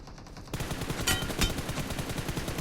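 Gunfire in the PUBG Mobile shooter game during an 8-versus-8 match, with rapid bursts of shots and a couple of sharper, louder cracks over a continuous rattling din, no talking.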